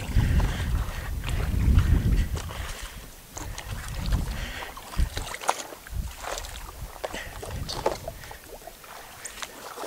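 Gusty wind buffets the water and microphone during stand-up paddleboarding on a very windy day, with a steady rushing roar, low rumbling gusts and occasional splashes, no talk.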